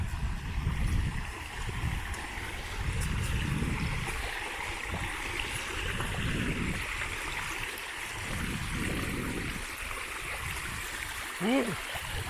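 Steady broadband wash of a river flowing beside a dry streambed on a trail run, continuous and moderately near, with footsteps and breathing-like thumps beneath and a short whistle-like chirp near the end.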